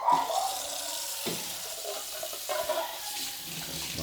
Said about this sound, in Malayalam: മുട്ടയൊക്കെ കഴുകിയിട്ട് വേണം പുഴുങ്ങാൻ.